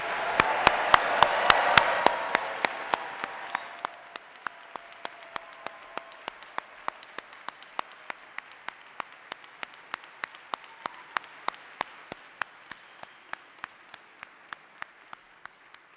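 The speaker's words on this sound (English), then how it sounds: "let's give a big Emory round of applause for our new PhDs" An auditorium crowd applauds new PhD graduates at the Emory University School of Medicine commencement, a dense burst of clapping for about four seconds that thins into faint, evenly spaced single claps continuing to the end.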